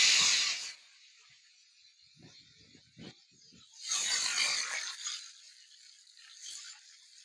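Onions dropped into hot oil with cinnamon, cloves and cardamom for idly vadakari give a loud hiss at the start, a few faint crackles and stirring clatters, then a second swell of sizzling that tapers off.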